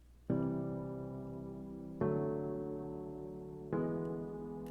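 Soft synthesizer keys play three sustained chords, each struck and left to ring and fade slowly, calm and airy.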